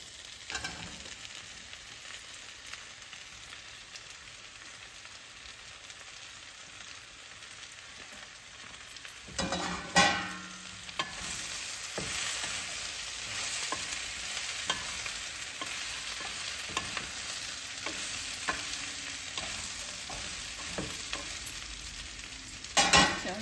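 Bell peppers and potatoes frying in a pan with a steady broad sizzle, broken by a few louder scraping stirs of a spatula, mid-level and close, with no voices.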